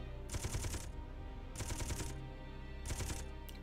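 Ship guns in the Space Engineers video game fire in three rapid-fire bursts of quick rattling shots, evenly spaced over a steady low hum, heard faintly.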